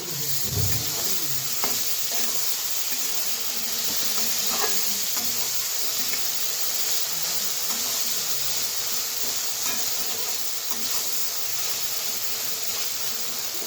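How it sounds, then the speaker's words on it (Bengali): Soybean chunks and potato being stirred in a pan over hot tempered spices, with a steady sizzle and hiss throughout and scraping stirs near the start, close and fairly loud. "তো মেখে রেখেছি সয়াবিন আর আলুটা দিয়ে দিব। তো ভালোভাবে নেড়ে চেড়ে নিই।"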